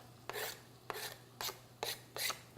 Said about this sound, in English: I prefer using 2 knives like this versus using any other method, because it really finely chops them